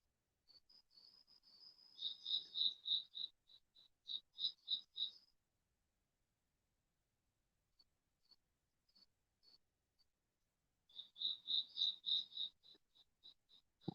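Crickets at night in Indiana chirp in quick rhythmic bursts of shrill trills, grouped into loud clusters separated by quieter gaps with only scattered faint chirps.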